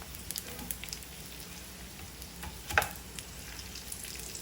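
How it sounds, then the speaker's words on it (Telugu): Vermicelli breakfast mixture frying in a pan over medium flame, giving a soft steady sizzle with a few small crackles and one brief louder pop. "ఇట్లా అన్నీ వేసుకున్నాక మీడియం ఫ్లేమ్లో మాడకుండా వేయించుకోవాలి రెండు వైపులా."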